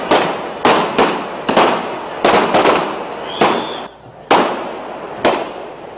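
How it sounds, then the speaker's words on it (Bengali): Police firing rubber bullets and tear gas shells at a street demonstration in Bangladesh: about eight loud, sharp reports in irregular succession, each with a short decaying echo and faint crowd noise between them. "পরিস্থিতি নিয়ন্ত্রণে আনতে রাবার বুলেট ও টিয়ারশেল ছড়ে আইন শৃঙ্খলা রক্ষাকারী বাহিনী"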